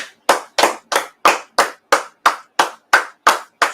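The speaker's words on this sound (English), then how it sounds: "Let's clap it up." A group claps in steady unison at a scripture class, about eleven sharp, evenly spaced claps ringing out close and loud with no talk.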